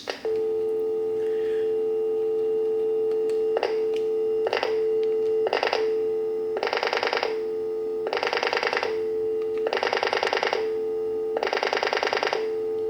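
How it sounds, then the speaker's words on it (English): A butt set clipped onto a phone line holds a steady, unbroken dial tone for the whole stretch, while pulse dialing attempts add several buzzy bursts that grow longer and come at irregular intervals. "this particular phone line does not support pulse dialing. Because as you saw, it just kept continuing with the dial tone."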